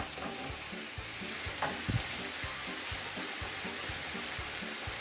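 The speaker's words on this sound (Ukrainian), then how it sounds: "Перемішуємо." Vegetable caviar with diluted tomato paste sizzles steadily in a pan while a spoon stirs it in regular strokes, close and continuous with no talk.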